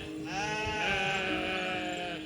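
A sheep on a riverside sheep station lets out one long, wavering bleat, fairly close and clear over a soft background hum, with no voices.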